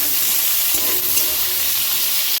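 Chopped spinach dropped into a hot oiled pan, a loud, dense sizzle and hiss that holds steady up close, with a brief clatter near the end.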